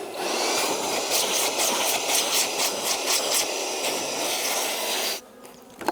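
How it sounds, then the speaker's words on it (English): A leaf blower roars steadily while clearing bees from honey boxes during a spring honey harvest, a loud, continuous hissing whoosh with faint pulsing that cuts off near the end. "So we've got this blower."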